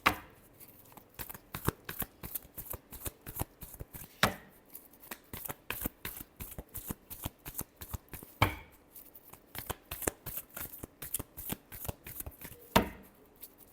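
Close, soft riffling and slapping of tarot cards being shuffled over and over, in quick rhythmic flicks with a louder riffle every few seconds, and no talking.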